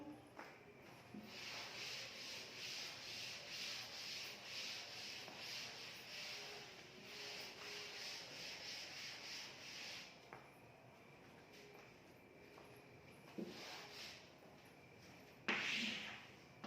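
Writing is rubbed off a board during a math lecture, a soft, steady back-and-forth scrubbing that runs for about ten seconds, then gives way to a few faint knocks and handling noises.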